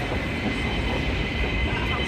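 A train in motion in Hong Kong, heard from inside as a steady rumbling roar with a faint underlying rhythmic rattle, continuous and fairly loud throughout.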